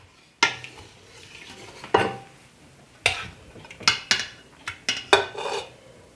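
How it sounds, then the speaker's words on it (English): Gluten-free spaghetti being stirred in a metal pot, a series of sharp clanks and scrapes from the utensil against the pot, irregular and spaced, growing quicker toward the end, close and clear with no talking. "Give it a good stir."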